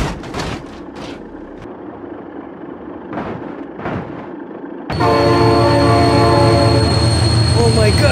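A train roars past close by, with loud wheel rumble and metallic squeal. It starts with rough bursts of noise, then turns into a dense, sustained clatter that stays loud until the end.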